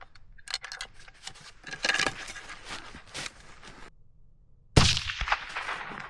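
A single sharp rifle report from an elk-hunting cartridge fired at a target through grass cracks out near the end, loud and sudden after a quieter stretch of outdoor rustling and clatter.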